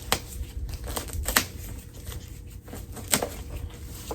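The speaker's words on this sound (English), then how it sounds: "let me take all this paper off" Stuffing paper is pulled and crinkled off a Coach City bucket bag, making close, continuous rustling with scattered sharp crackles and snaps and no pauses.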